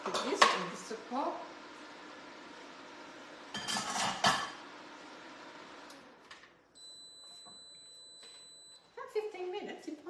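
A spatula scrapes and clatters against a Magimix Cook Expert bowl while the blade and its support are lifted out, with bursts of metallic scraping, a steady appliance hum and a high electronic beep tone, and people talking.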